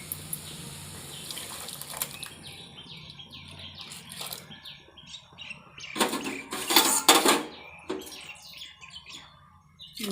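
Liquid poured into a pot while making moong dal payasam: a brief splashing pour midway, with birds chirping in the background and no voices.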